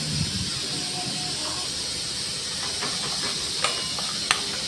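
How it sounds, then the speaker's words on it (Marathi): Spice masala roasting in hot oil for a chicken curry, a steady close sizzling hiss with a few faint clinks and scrapes scattered through it. "तेलामध्ये चांगला फ्राय करून घ्यायचा, म्हणजे आपल्या भाजीलाही चव चांगली येते. आपला मसाला भाजतोय."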